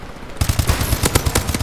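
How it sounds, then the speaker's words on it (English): A light machine gun in the shooter game Call of Duty: Advanced Warfare fires a rapid, loud sustained burst of evenly spaced shots that begins abruptly after a brief quiet lead-in. "I forgot about these weapons, dude. The fucking Kimbo LMGs"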